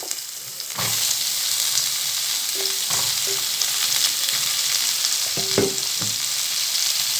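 Chayote pieces sauté in oil for a spicy Tamil-style anchovy and cowpea kara kuzhambu, giving a steady close sizzle with a few sharp clinks and scrapes of a spoon stirring in the pan, no voices.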